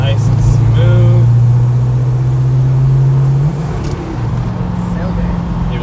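A 1970 Dodge Super Bee in Hemi Orange cruises with a steady, loud low engine drone that dips briefly as the throttle shifts, close-up from inside the cabin.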